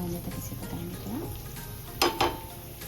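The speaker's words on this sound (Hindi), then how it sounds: "प्याज हमारा लाल हो चुका है, सुनहरा होने तक इसे पकाएंगे थोड़ा।" Onions frying in a pan for a Bihari-style spicy colocasia leaf dish with mustard, a steady low sizzle with light stirring scrapes and two sharper spatula strokes near the end.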